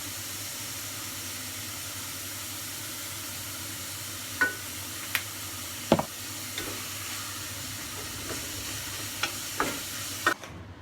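Ground pork mapo tofu with black pepper sizzles steadily in a pan while a utensil stirs it, giving a continuous frying hiss broken by about eight sharp scrapes and clicks.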